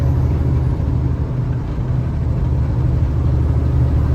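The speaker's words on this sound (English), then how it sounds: "The noise inside the cab is very noticeable on this thing." A loud, steady low rumble and whir fills the cab of a 2023 Peterbilt 567 logging truck, constant engine and road noise with no voices.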